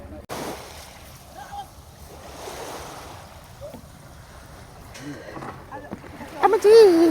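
Wind and wave wash around a boat heading across the water toward an island, with steady surf noise and splashes while people talk over it.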